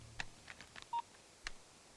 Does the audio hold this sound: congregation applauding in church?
no